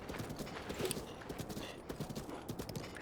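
Horse trotting in The Legend of Zelda: Breath of the Wild, quick rhythmic hoofbeats close up and fairly faint, pattering steadily for a few seconds.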